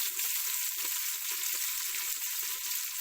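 Steady, dense sizzling from onion frying in a hot pan, continuous and close throughout with no pauses and no voices.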